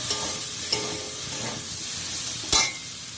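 Papaya curry with a spice mixture and torn green chillies fries steadily in a pan, a continuous sizzle broken by several sharp scrapes and clinks of a spoon stirring, close and alone.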